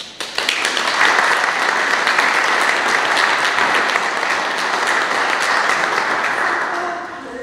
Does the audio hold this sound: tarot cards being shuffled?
no